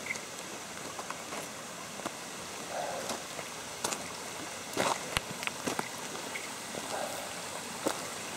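A stream flows steadily beside a walking path in Japan, a soft continuous watery wash with scattered faint drips and small splashes, fairly quiet and without voices.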